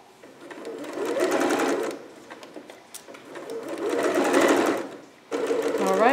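A sewing machine stitches skirt lining fabric in two long steady runs, separated by a short pause, then begins a third run. The whirring hum is close and fairly loud, with no talking.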